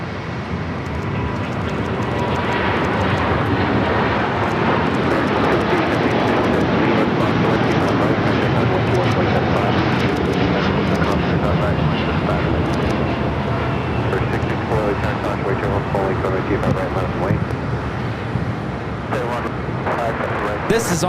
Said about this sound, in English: 125 taking off to Tokyo Haneda on the 787-9 Dreamliner in the Star Wars R2-D2 livery.